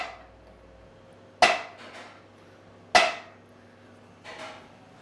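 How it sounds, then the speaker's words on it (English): A rubber mallet strikes the front of the crankshaft on a 5.3 LS engine during bottom-end assembly, three separate sharp knocks spaced about a second and a half apart, each with a short ringing decay, in a quiet shop. "take a rubber mallet, hit the front of the crank"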